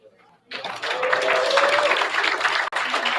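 Audience applause at a real estate association vendor expo in Los Angeles breaks out suddenly and holds as a dense wash of clapping for about three seconds, with voices mixed in.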